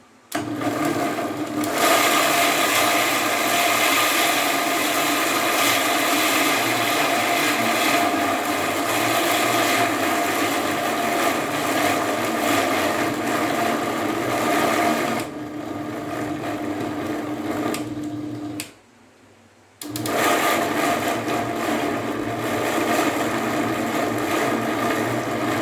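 A mixer grinder blends a mutton shami kebab mixture with a loud, steady motor whine that runs almost continuously, dips briefly, cuts out for a moment near the end, then starts again.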